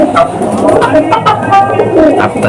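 Pigeons coo softly and repeatedly at a pigeon keeper's loft, close by, with murmuring and voices mixed into the low, rolling calls.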